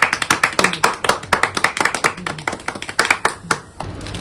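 A small group of people clapping together for a birthday, steady rhythmic hand claps, close and fairly loud, continuing for several seconds.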